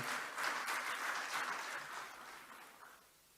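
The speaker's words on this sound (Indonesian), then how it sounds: "Tepuk tangan untuk beliau" A crowd claps steadily and loudly, then the applause thins and fades away.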